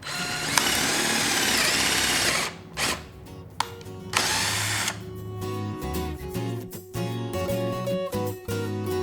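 A power drill bores pilot holes into a tire, whining in several close bursts separated by short pauses, with clicks and motor spin-down between holes.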